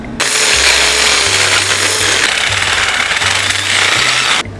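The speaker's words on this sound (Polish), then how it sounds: "Dobra, trzeba je troszkę rozwiercić" A power drill widens mismatched mounting holes on a homemade motorbike, making a loud, continuous grinding whine that runs nearly unbroken and close up, then cuts off at the end.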